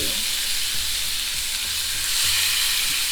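Lamb chops with thick fat left on sizzle and spit steadily in a hot frying pan, a close, continuous frying hiss with small crackles throughout.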